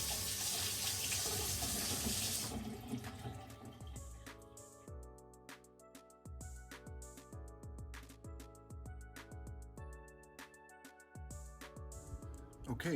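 Water from a bathroom vanity faucet rushes steadily into the sink for about two and a half seconds, then cuts off, leaving a plucked, tonal background that continues to the end.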